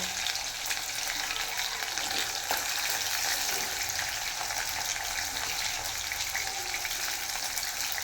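Chicken manchurian frying in a pan gives a steady, close hiss and crackle of hot oil that runs unbroken and fairly loud throughout, with no voices.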